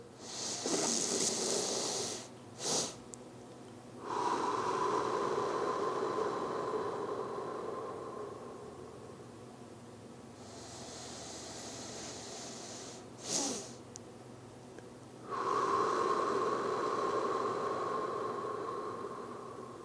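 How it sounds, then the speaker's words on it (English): Slow, deep breathing with long drawn-out exhales and breathy inhales, close and steady, repeating in a calm rhythm with short pauses between breaths. "it's basically just breathing in until you feel like you can't breathe anymore"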